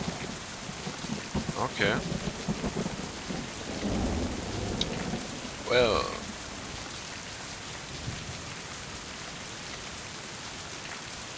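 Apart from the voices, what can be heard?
rain and thunderstorm in video game Mind: Path to Thalamus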